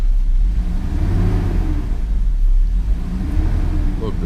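Mercedes V12 idling rough on only 6 of its 12 cylinders, a close, loud, uneven low rumble with a lumpy pulsing beat, steady throughout.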